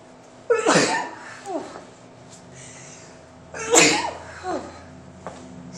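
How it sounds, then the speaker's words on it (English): Two loud, sharp sneezes a few seconds apart, each followed by a short breathy aftersound, against quiet room tone. "sorry, I'm gonna sneeze."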